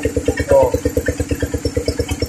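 A diesel water pump engine irrigating a drying rice paddy chugs loudly and close by, its rapid, even pulses thumping steadily throughout.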